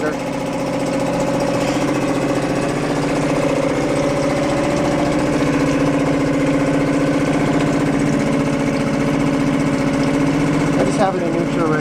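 A 2017 Suzuki 2.5 hp outboard motor runs steadily in neutral, a close continuous buzzing idle with a faint rattle, and a voice talks over it.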